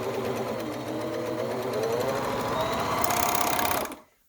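Serger overlock sewing machine stitching a skirt seam, a fast steady mechanical whir with rapid needle chatter, close and loud, running continuously for about four seconds before stopping abruptly.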